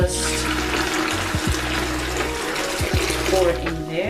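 Water with lemon juice pours steadily into a makeshift mold, a continuous splashing rush throughout.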